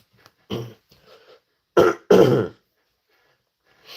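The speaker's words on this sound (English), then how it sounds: "excuse me for coughing" A person recovering from a cold coughs and clears their throat close to the microphone, a few short harsh bursts separated by quiet pauses.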